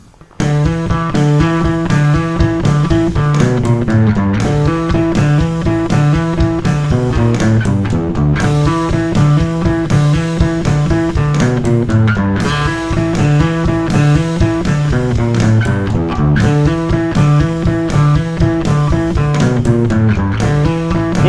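Bass guitar plays a fast, shredding-style rock bass line at a slowed-down tempo, a steady stream of picked notes running continuously and loud throughout with no talking.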